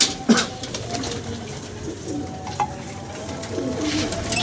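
Pigeons coo softly in a loft, low repeated calls surfacing intermittently over a steady background hum, with a brief louder knock early on.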